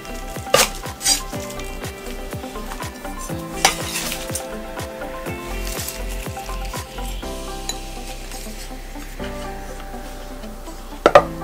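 Green onions chopped with a knife on a cutting board for Mongolian beef, a run of quick, evenly spaced close knife taps, then a brief pause and a few final clacks.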